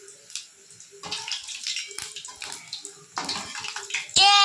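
Wheat flour bajji fritters frying in hot oil give a continuous crackling, bubbling sizzle that rises and falls, turning busier and louder toward the end, with no talking over it.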